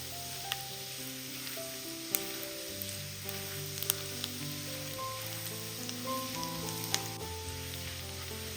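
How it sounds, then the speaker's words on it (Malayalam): Garlic sizzles in a pan while being stirred, cooked over low flame until its raw smell fades; a steady, moderately close frying hiss runs throughout with occasional faint clicks, alone. "ഇനി വെളുത്തുള്ളിയുടെ ആ ഒരു പച്ചമണം മാറി കിട്ടുന്നവരെ ഒന്ന് ഇളക്കി കൊടുക്കാം"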